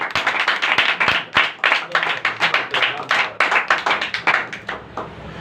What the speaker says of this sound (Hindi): जिंदा खुदा के तरफ जोरदार तालियां।